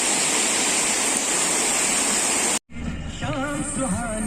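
Loud, steady roar of Turga waterfall's rushing water fills the first two and a half seconds, then cuts abruptly to a quieter stretch where the cascade continues underneath a person talking.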